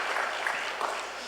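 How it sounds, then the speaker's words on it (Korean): A church congregation claps during a Sunday worship service, a brief, steady wash of applause at moderate level that fills the room without breaks. "박수 한번 보내주겠습니다"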